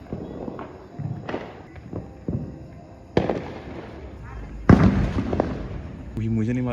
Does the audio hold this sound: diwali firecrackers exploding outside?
yes